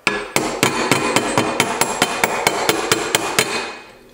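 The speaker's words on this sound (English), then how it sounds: "I can use these as a hammer." Removed metal car suspension parts used as a makeshift hammer strike metal in a steady, rapid series of about fifteen loud, ringing clanks, evenly spaced and close up, with no talking.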